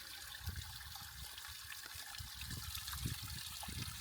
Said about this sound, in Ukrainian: Так, вода тече.